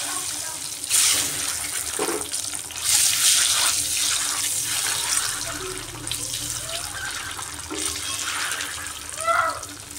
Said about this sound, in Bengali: এইভাবে ডিমগুলোকে লাল লাল করে ফ্রাই করে নেব।